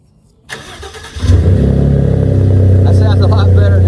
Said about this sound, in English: let's start up this truck with the Flashark exhaust system